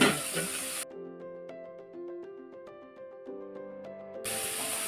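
Mustard seeds and chopped onion frying in hot oil in a pan while making potato bondas, with bursts of sizzling at the start and end and a steady melodic tone between them.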